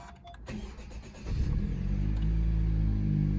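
A modified car engine, tuned with a Ktuner V2 and MAPerformance Stage 1 parts, cranks briefly and catches, then settles into a steady, loud, close idle as it warms up. No one talks.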